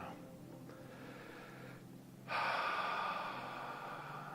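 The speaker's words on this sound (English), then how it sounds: "Take a nice deep breath now." A single deep breath during a guided healing meditation, quiet low background at first, then a loud, sustained airy inhale or exhale that starts abruptly and holds steady to the end.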